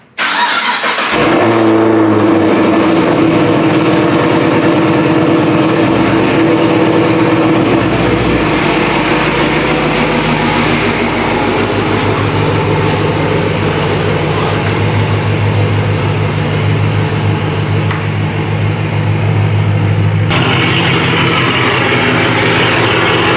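A 2014 Chevrolet Camaro engine cranks and fires, then settles into a steady, loud idle that runs on without a break, heard up close with no talk.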